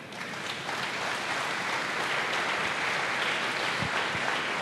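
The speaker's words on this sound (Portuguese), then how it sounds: "Vamos aplaudir ao Senhor." A church congregation at a congress applauds with continuous, dense clapping from many hands that fills the whole stretch evenly, with no voices over it.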